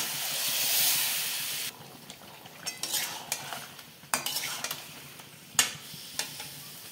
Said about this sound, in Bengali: ফোড়নটা লাল হয়ে গেছে, দিয়ে দিলাম চিকেন। ভালো করে কষাতে হবে।